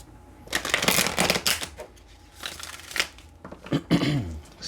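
A tarot deck is shuffled by hand in a series of close riffling bursts and soft slaps, with short pauses between handfuls of cards.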